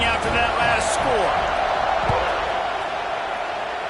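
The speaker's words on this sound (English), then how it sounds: "this crowd is buzzing after that last score" Stadium crowd at a USC versus Iowa college football game buzzing steadily after a score, a loud continuous roar of many voices with a few cheers and claps, under a commentator's voice.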